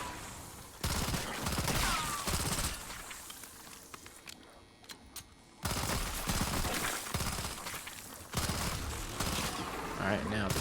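Rapid gunfire from a weapon in the video game Ashes of the Damned shooting cysts, loud continuous bursts of shots broken by a short quieter pause before firing resumes.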